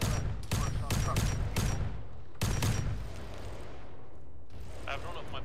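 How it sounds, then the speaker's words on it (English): Bolt pistol gunfire in Arma 3 with a Warhammer 40k setting: dense bursts of loud, booming shots in quick volleys, a short pause, then another burst before things settle into a rumbling battlefield background. "I don't know if my bolt pistol's doing anything"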